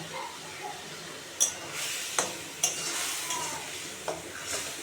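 Egg curry masala stir-fried in a pan with turmeric and salt, a steady sizzle with scraping spatula strokes and a few sharp clinks against the metal, close and continuous with no talk.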